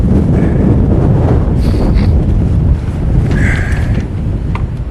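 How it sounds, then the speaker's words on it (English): Loud, blustery, cold wind roars against the microphone in a constant low rumble on Rattlesnake Mountain, with faint higher whistles briefly rising above it. "It's cold, it's windy."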